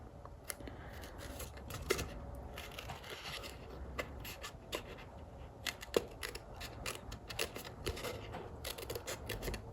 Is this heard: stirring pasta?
no